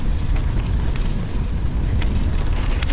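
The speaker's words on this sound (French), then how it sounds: "Il y a juste ce petit vent là qui est un petit peu agaçant" Steady outdoor wind buffeting a microphone on a mild day while out cycling, a continuous low rumble with soft gusty swells and no other sounds.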